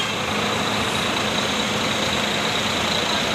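The newest Makmur intercity bus idles at a bus terminal, a steady, loud broadband engine rumble and hiss that holds unchanged throughout with no pauses.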